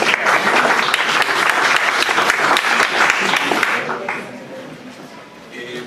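An audience at a university humanities and law conversatorio applauds to welcome the speaker, Dr. Jesús Vargas, with dense, loud clapping that holds for about four seconds before thinning and fading out.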